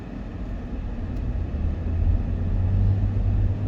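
A car pulls forward on a road during a driving test, its low engine and road rumble swelling steadily as it picks up speed, heard from inside with no one speaking.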